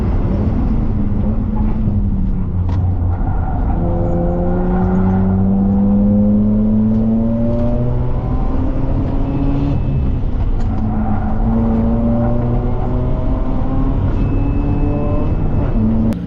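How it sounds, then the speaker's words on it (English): Onboard race car engine at speed through the S section at Mallala Motorsport Park, loud and continuous, with repeated rising and falling revs as the driver shifts gears and brakes into corners. "check out this onboard on how hard he's pushing going into the S section at Mallala Motorsport"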